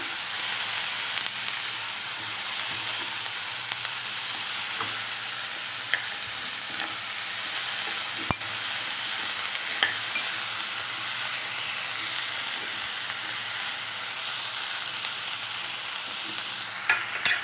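Capsicum curry mixture being stirred in a kadhai, a steady close frying sizzle and hiss throughout with occasional soft scrapes and taps of the spoon against the pan.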